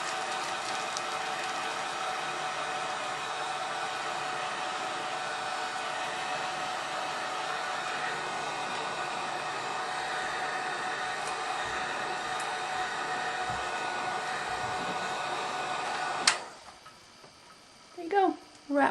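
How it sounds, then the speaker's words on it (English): A heat gun shrinks plastic wrap around a bar of soap, giving a steady, close, loud blowing roar for about sixteen seconds before it cuts off, followed by a few brief handling sounds. "Then you just use the heat gun"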